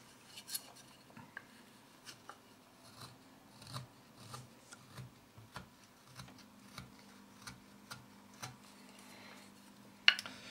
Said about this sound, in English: I mainly use the knife for carving and whittling, such as this elder spoon blank that I have here